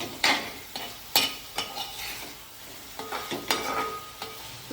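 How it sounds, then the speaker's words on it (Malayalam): Chicken pieces for a Kerala-style chicken stew stirred in a pan over high flame, with a soft sizzle under a series of scraping spoon strokes and light clinks. "തീ ഹൈ ഫ്ലെയിമിലിട്ട് 4-5 മിനിറ്റ് നേരം നന്നായിട്ടൊന്ന് ഇളക്കി കൊടുക്കാം."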